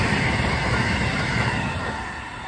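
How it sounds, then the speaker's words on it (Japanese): A six-car rapid commuter train rushes past the Tsukuda level crossing in Ōyamazaki's Enmyōji district, a loud, close, continuous rumble of wheels on rails that eases slightly toward the end. "快速電車ですね。"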